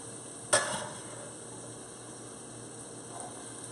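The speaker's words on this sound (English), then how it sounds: "I'm going to add first my onions." Onions for a tomato bisque hit a hot pan with a sharp, close clatter, then settle into a soft sizzle under a steady electrical hum.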